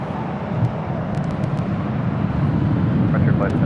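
An airliner takes off from runway 24 left at Los Angeles International Airport, a steady, broad jet roar that holds at an even, fairly loud level throughout, with faint radio chatter over it.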